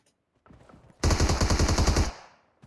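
Automatic gunfire in PUBG Mobile: one rapid, loud burst of about a dozen shots lasting roughly a second, preceded by faint rustling and followed by a short tail.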